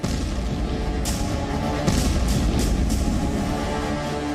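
Artillery shelling in the Russia-Ukraine war sounds as dull, distant booms over a constant rumbling background, with several muffled thuds spaced a second or so apart.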